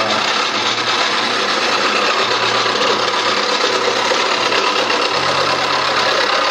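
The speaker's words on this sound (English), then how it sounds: "if I were turning 50 of these, I'd probably speed the lathe up so I could do this faster." Wood lathe turning a table leg at slow speed: a steady low motor hum with a rough, continuous scraping of the tool on the spinning wood, close and fairly loud throughout.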